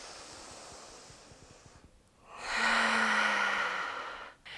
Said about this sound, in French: Grande respiration ici.